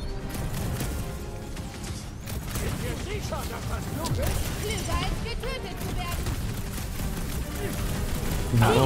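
Gunfire in Guardians of the Galaxy, scattered blasts and energy shots amid a busy battle din, with someone talking over the action.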